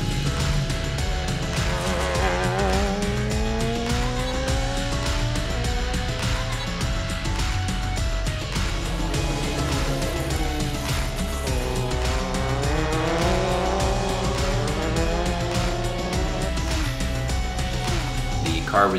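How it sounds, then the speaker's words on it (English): Radical race cars circuit racing, engines screaming through rising and falling gear shifts with tire squeal, loud and continuous; a voice talks over the engine roar throughout. "all the cars are equal. There's no modifications or changes allowed to the car"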